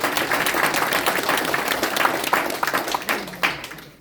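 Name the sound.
applause at party merger press conference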